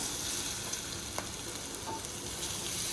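Chillies sizzle and fry in hot oil in a home kitchen, giving a steady close crackle with occasional sharper pops and no one talking.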